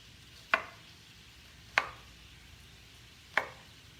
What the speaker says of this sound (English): I'm just chopping up this